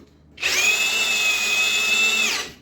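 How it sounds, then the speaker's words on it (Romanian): A Parkside cordless drill in first gear drives a screw, a single steady high whine that starts abruptly, holds for about two seconds close by, then winds down and stops. "o să iau Parkside, o să pun în viteza 1 și am să le înșurubesc pe toate 3"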